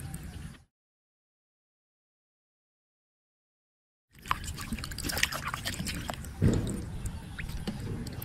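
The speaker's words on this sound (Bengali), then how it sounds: "দিয়ে দিচ্ছি পরিষ্কার পানি।" Clean water splashes and trickles over hilsa fish as they are washed, a close, wet, uneven pouring with drips and squelches that begins abruptly after a stretch of silence.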